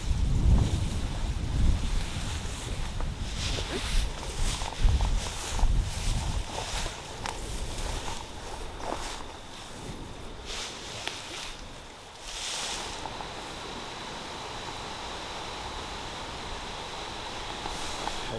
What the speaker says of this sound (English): Awfully windy, awfully windy.